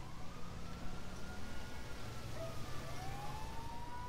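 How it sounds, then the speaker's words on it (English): A police siren in a cops-versus-civilians video game wails faintly with slow rising and falling tones over a low, steady rumble for the whole stretch. "do you not hear sirens?"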